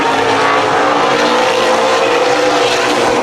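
A pack of race cars on the oval at Columbus Motor Speedway roars loudly and steadily as the field gets back up to speed after a restart, engines layered together with no talk.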